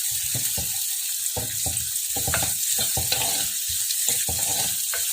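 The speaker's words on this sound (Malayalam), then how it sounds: "നന്നായിട്ട് ഇളക്കി കൊടുക്കുക. സവാള മൂത്ത് വരട്ടെ കേട്ടോ." Onions frying in a pan for a plantain upperi, with a dense continuous hiss of hot oil and a quick run of scraping stirs pulsing throughout, close and fairly loud, with no speech.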